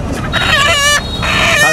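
Desi chickens at a shop clucking and crowing loudly and close, a few drawn-out calls overlapping in quick succession with no voices.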